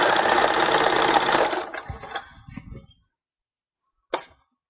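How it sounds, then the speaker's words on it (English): A sewing machine stitches a fabric Christmas skirt, running loud and steady for over a second before slowing and stopping, followed by a few light clicks and a short sharp clink near the end. "And then you just keep sewing."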